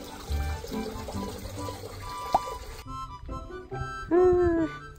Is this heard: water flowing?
yes